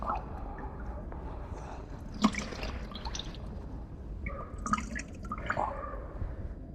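A wet cloth is wrung out hard over a bucket, water dripping and splashing in small irregular trickles, close and fairly quiet, with no voices.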